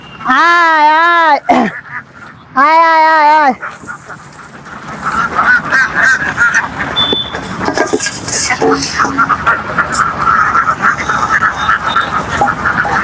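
Campbell ducks on a duck farm, two long loud nasal quacking calls up close at the start, followed by a steady chorus of many ducks chattering and quacking in the background.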